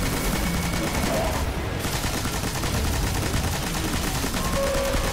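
Gunfire in Destiny during a boss fight: dense, continuous rapid shooting and weapon effects fill the whole stretch at steady loudness, with no clear pauses.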